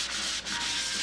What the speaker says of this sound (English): if I take ordinary simple green and just spend some amount of time sanding that in